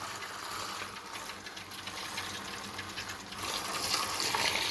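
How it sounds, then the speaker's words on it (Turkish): Water running steadily through a home water purifier's filter, a continuous close hiss and gush that swells slightly toward the end, with no talking. "Su berrak gelene kadar aksın."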